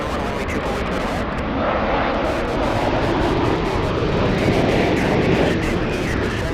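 Airliner jet engines roar steadily at Los Angeles International Airport, a loud continuous broadband rumble that swells slightly midway and holds throughout, with no clear talk over it.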